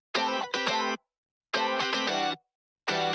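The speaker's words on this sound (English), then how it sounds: "Room reverb is actually like the best thing on guitars, bro, because you don't want your guitars to sound too in the middle" Layered, double-tracked distorted guitars with room reverb play loud chugging chords in short bursts separated by abrupt silences, each phrase cutting off cleanly.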